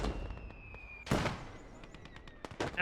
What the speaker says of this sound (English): That mortar, though, it is small caliber, but it's quite annoying.